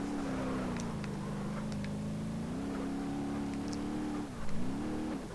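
A car engine in the BeamNG.drive video game drones at a steady mid pitch while driving with the handbrake on. The pitch shifts gently up and down, with a brief louder surge near the end and no voices.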